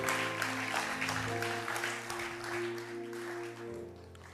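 A church congregation applauds during a sermon, a soft wash of scattered clapping under sustained organ or keyboard chords, fairly faint and distant.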